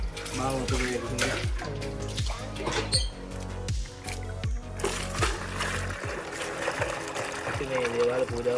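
Water pours and splashes into a container at a temple, drawn for a shrine offering, with repeated gurgling bursts and a rhythmic low sloshing, nearby people talking over it.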